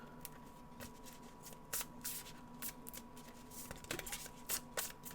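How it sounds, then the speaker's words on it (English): A sleeved trading card deck for a collectible card game is shuffled by hand, quiet close crisp riffling bursts in irregular clusters, no talking. "And I shuffle this card."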